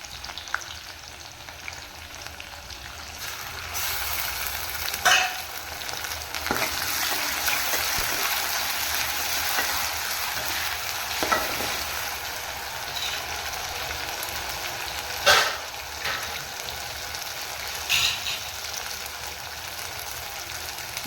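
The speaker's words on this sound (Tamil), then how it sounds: "வெங்காயம் கொஞ்சம் வதங்கினதையும் நம்ம இஞ்சி பூண்டு பேஸ்ட்டு போட்டுக்கலாம்." Onion with ginger garlic paste sautéing in a pan for ridge gourd and broad bean sambar, a steady soft sizzle with occasional stirring scrapes and clinks throughout.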